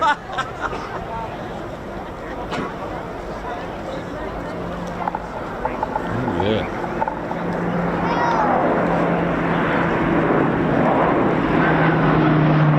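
Royal Canadian Air Force Lockheed Martin CC-130J Hercules makes a flypast at an air show, a turboprop drone that grows steadily louder as it nears, with people talking nearby and clattering bumps early on.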